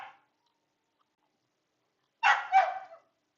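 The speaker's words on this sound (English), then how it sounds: "I don't know if you hear my dog in the background barking." A dog gives two quick barks close by, one right after the other, with a brief sound at the start and near silence in between.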